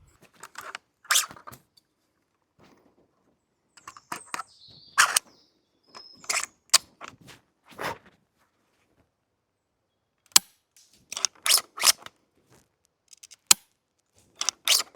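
A 3D printed DVL 10 replica airsoft rifle fires BBs outdoors at a tree about 35 meters away, giving a series of sharp, dry snaps spaced irregularly, with short clicks and faint bird chirps in the quiet between.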